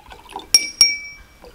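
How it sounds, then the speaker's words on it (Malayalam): Two sharp clinks on a kitchen drinking glass partly filled with water, close and clear, each leaving a short ringing tone over a faint background of handling noise. "ഇനിയിപ്പോൾ നമ്മളതിൽ വെള്ളം ഒഴിച്ച് കഴിയുമ്പോൾ"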